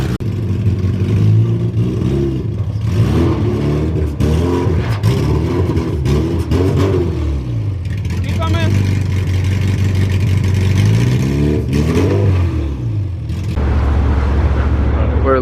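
An all-wheel-drive Honda CRX making around 600 horsepower revs hard on a dyno. The engine note is loud and close, climbing and falling in repeated pulls over a steady drone, with no break from start to finish.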